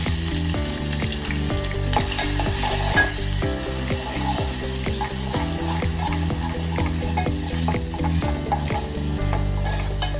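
Ginger, garlic and chili paste sizzles in a ladle of hot oil while being fried for a Manchurian dish, a steady, close crackle with stirring scrapes and clinks throughout.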